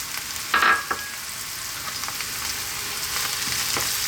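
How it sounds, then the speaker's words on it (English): Spinach frying in a pan with garlic, onions, salt, black pepper and dried oregano, a steady close sizzle with a couple of brief stirring scrapes early on and no talking. "frying away here. Keep it moving."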